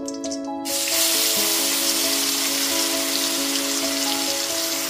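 A paste of onion, ginger, garlic and green chilli hits hot oil already used for frying eggs, and after a brief quiet moment it bursts into a loud, dense, steady sizzle that carries on close up with no talk.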